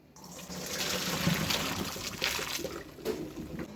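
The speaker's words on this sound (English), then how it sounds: "We're just going to drain them right out." Cooked noodles are poured into a strainer at a kitchen sink, giving a steady rushing splash of draining water for a few seconds, close and fairly loud, with no talk over it.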